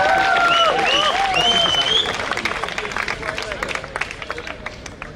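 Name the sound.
audience applause welcoming Padmini Sharma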